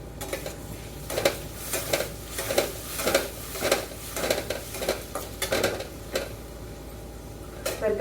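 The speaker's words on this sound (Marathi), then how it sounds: "आता चार ते पाच मिनिटं छान मिडियम गॅसवरती कांदा भाजून घेते" Onion frying on a medium gas flame, a soft sizzle under repeated rhythmic scrapes of a spoon stirring in the pan, about one stroke every half second, close up.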